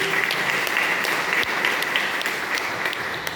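A congregation at a Catholic Carnival retreat applauds steadily, a dense wash of clapping that holds at even loudness from start to finish.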